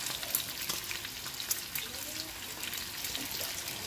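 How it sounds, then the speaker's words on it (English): Collard greens sautéing with bacon and seasoning in a pot, a faint, low sizzle with soft stirring and watery sounds, quiet and close. "just let it saute. Or it could get all the bacon, the seasoning stuff."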